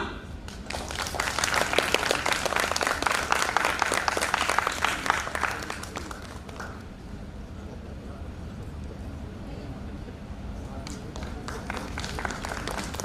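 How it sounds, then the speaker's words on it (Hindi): An audience at a Lucknow University audio drama event applauds during an honouring ceremony. Dense clapping swells for about six seconds, then fades to a softer patter with crowd murmur. "तालियां।"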